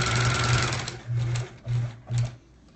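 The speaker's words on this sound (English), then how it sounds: "I can't speak during the sewing anymore." A sewing machine stitches a quilt block in four or five short, buzzing bursts of rapid needle hum, close and loud, with brief pauses between runs and no talking.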